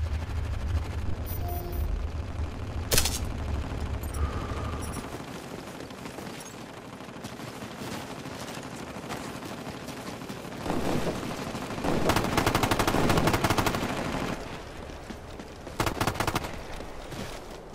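Gunfire in the video game Ghost Recon Future Soldier, with bursts and sustained volleys of shots that swell and fade over a steady background of game noise.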